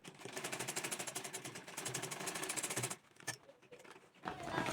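A sewing machine stitches a handmade Ankara fabric crossbody bag with a fast, steady, rhythmic whirring for about three seconds. It then stops, leaving a few faint clicks and fabric rustles before a soft swell of noise.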